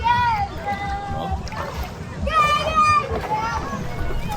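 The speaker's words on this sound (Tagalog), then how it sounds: "Ang daming naliligo dito mga sir." Crowd of bathers swimming in clear water at Tumangan Farm resort in Botolan, Zambales, on a hot Holy Saturday: children's shouts and lively chatter carry throughout, with light sloshing and splashing of water underneath.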